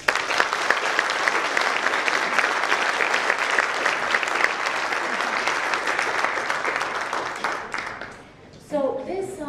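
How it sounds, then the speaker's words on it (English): Warm applause from a conference audience at a closing ceremony, steady and full for about eight seconds, then thinning out as a voice begins to speak near the end. "I would like to call for a very warm applause for them"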